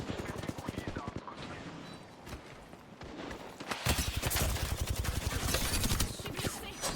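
Gunfire in the Apex Legends video game crackles in rapid bursts, quieter at first and then a sustained loud volley of automatic shots in the second half.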